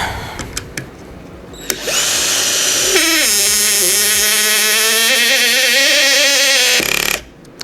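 Procraft Industrial PA18DFR cordless screwdriver driving a screw: a few clicks, then a loud, steady whirring motor for about five seconds with a pitch that dips as the screw bites and then holds, before stopping abruptly.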